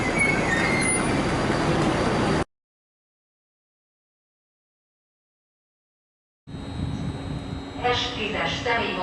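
A maintenance train for overhead wires rumbles past a platform at Budapest Kelenföld station, loud and close for a couple of seconds. The sound then cuts out and returns with more rolling rail noise and people talking nearby.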